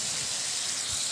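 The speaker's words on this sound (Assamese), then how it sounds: "এতিয়া এইটো ভালকৈ ধুনীয়াকৈ ফ্ৰাই কৰি ল'ম।" Tomatoes with spices frying in a pan give a soft, steady sizzling hiss, faint and continuous, with no voices.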